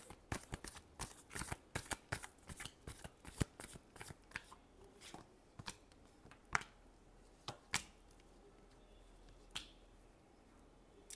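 Tarot cards are shuffled in a run of sharp, rapid riffling snaps that thin into sparse scattered flicks, close and quiet, with no talk.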